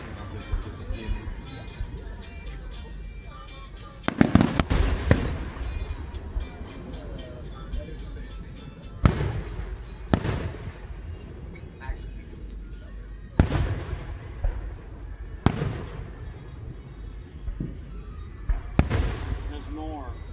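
Fireworks burst outdoors in a string of sharp, loud booms spaced a few seconds apart, each trailing off into crackle, over a low background hum with some voices.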